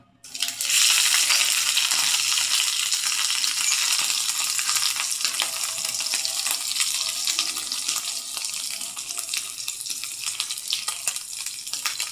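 Tinapa (smoked fish) frying in a pan, a steady, close hiss of sizzling oil that carries on without a break for about twelve seconds, with no talking over it.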